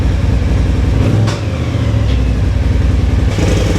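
A Polaris RZR Pro S side-by-side engine revs hard as its newly installed IBEXX Stage 2 clutch kit engages, a loud, close, steady mechanical drone that dips briefly partway through before surging back.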